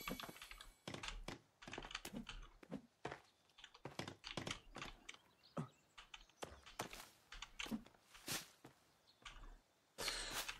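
Rapid computer keyboard and mouse clicking during play of The Forest: dense, irregular clatter of keys and clicks going on without pause, close but fairly quiet, with no talk.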